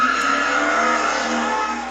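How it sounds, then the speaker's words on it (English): A race car circles with tires squealing and skidding, a continuous high screech of rubber over engine drone heard from some distance, fading slightly toward the end. "Race car around in a circle."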